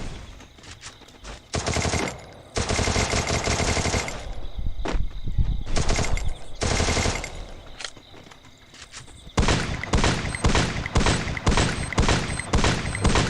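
Gunfire in the Free Fire mobile game, played on an emulator: repeated loud bursts of rapid automatic shots, some long and some short, with rapid clusters of single shots near the end.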